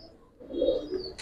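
Pigeons for sale give a short, soft coo rising briefly out of quiet background noise, close by and heard alone.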